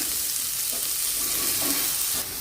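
Vegetables sizzle and fry steadily in a pan while an egg rice lunch is being made, a constant close hiss with faint stirring scrapes throughout and no talking.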